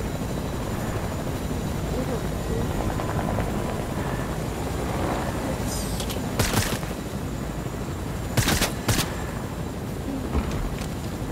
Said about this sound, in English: Chopper inbound. I hear one.